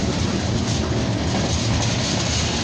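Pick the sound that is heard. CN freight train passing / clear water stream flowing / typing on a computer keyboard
CN freight train passing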